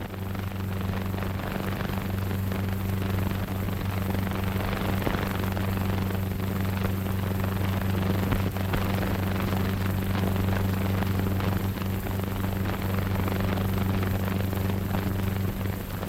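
Military aircraft engines from the Battle of Leyte Gulf run up for takeoff as a loud, unbroken propeller drone with a deep steady hum that holds throughout.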